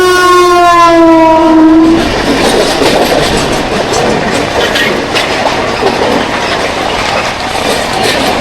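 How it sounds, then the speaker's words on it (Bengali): A Vande Bharat Express rushes past on Indian rails, opening with a loud descending horn blast before giving way to a dense, continuous roar and rattle of wheels and carriages, close and loud throughout. "সামনে থেকে ছুটে আসছে 2078 বন্দে ভারত এক্সপ্রেস।"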